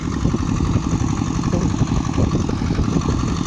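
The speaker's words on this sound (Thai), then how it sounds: "เอารถไถมาพร้อม" A farm tractor's diesel engine idles and chugs steadily nearby, a low, rough, even putter with no voices.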